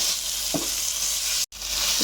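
Jackfruit seeds, potatoes, tomato and green chilli sauté in hot oil with a continuous, close sizzle, broken by a very brief dropout near the end.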